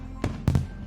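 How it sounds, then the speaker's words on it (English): Fireworks from the visual novel Katawa Shoujo burst in quick succession, a few loud, booming explosions with crackling tails, heard close and without any voices. "More and more rockets rise up to the sky, the bright colors of their explosions reflecting from the clouds."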